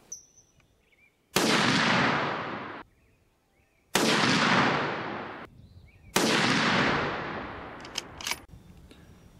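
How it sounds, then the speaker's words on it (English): Three sharp, loud rifle shots from a Christensen Arms MPR short-barrel .308, evenly spaced a few seconds apart, each followed by a long booming echo that fades before the next. "we'll go and shoot a three-shot group."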